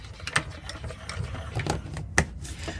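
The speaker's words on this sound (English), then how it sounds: "you're just going to run it through your mini cut and emboss machine" A small cut and emboss machine runs, giving soft irregular clicking and grinding ticks at close range, fairly quiet, with no talk over it.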